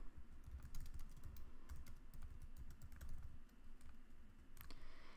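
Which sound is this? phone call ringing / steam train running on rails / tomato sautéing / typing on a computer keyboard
typing on a computer keyboard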